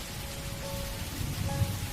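Steady rain begins falling in a dark horror cartoon setting at night, a soft continuous hiss of drops on surfaces with a low rumbling undertone and no voices.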